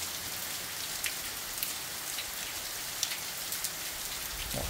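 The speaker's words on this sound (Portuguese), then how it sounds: "Com essa chuva agora" Steady rain falls on plants and ground in a soft, even patter, with occasional louder drops tapping nearby and no voices.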